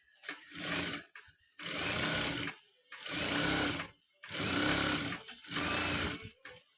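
An electric sewing machine stitches a uniform coat in five bursts of steady, fast mechanical whirring and needle chatter, each lasting about a second, separated by short pauses.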